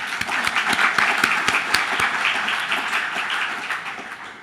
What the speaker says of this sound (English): we want to give a short applause for